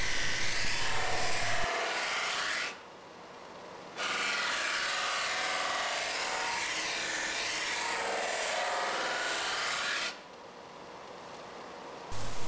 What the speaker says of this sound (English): use your body for support while moving the guitar into the smaller buffing wheel